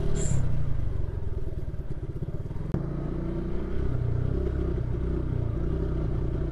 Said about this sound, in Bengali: অলরেডি বাইক ধাক্কানো শুরু করতেছে, প্রচুর পরিমাণ ধাক্কাচ্ছে।